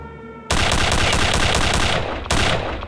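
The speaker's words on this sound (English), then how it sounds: "These are 3 guys with venom guns." Venom gun from Return to Castle Wolfenstein unleashing sustained rapid-fire bursts, loud and close, cutting in abruptly after a faint hum, pausing briefly, then firing again.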